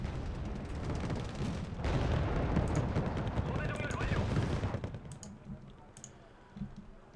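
Autocannon fire in the Wargame: Red Dragon video game sounds as rapid, rattling bursts of shots over a rumbling battlefield, loudest in the middle before fading. Someone talks over it.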